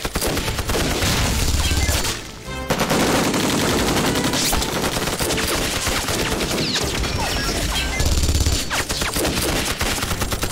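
Sustained gunfire from a war film, dense rapid machine-gun bursts and volleys running almost continuously at high loudness, with a brief pause near the start.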